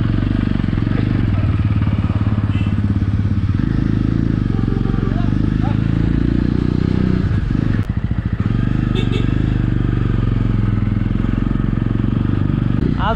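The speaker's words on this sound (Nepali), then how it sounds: "आज चाहिँ अब फर्स्ट टाइम यो बाइक लगेर जाँदैछु" A motorcycle rides a mountain road on a Darjeeling to Sikkim trip, its engine a loud, close, steady drone mixed with wind roar, with a brief dip and rattle midway.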